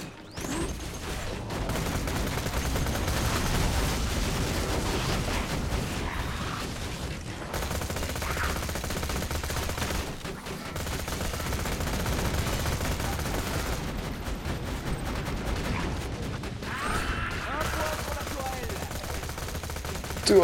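Death turret in Borderlands 2 firing a sustained, loud stream of rapid gunfire for about twenty seconds, with brief pauses and game effects mixed in.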